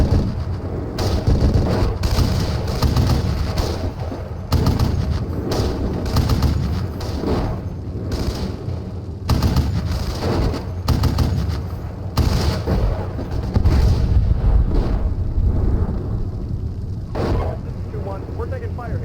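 Battle gunfire and heavy weapon blasts in the Steel Beasts Pro PE tank simulator, with repeated loud booming shots and rumbling impacts over a constant engine-like roar, while someone talks throughout.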